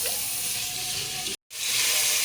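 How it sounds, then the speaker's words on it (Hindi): Mutton pieces frying in a pressure cooker for a bottle gourd and meat curry give a loud, steady sizzle and hiss, briefly cut to silence before the frying resumes. "ये देखिए, हमारा ये गोश्त अच्छे से फ्राई हो चुका है।"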